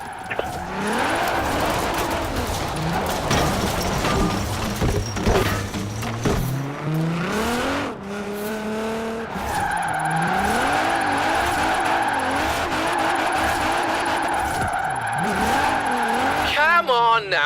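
A car drifts in Forza Horizon 4, its engine revving and wavering as tires squeal and skid almost continuously through turns with the e-brake feathered, loud and close throughout.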